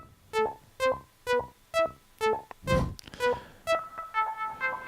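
Unprocessed synth melody from an Oberheim Matrix 6: a dry, buzzy sequence of short plucked notes in a steady rhythm, with one noisier burst midway, played alone and fairly quiet.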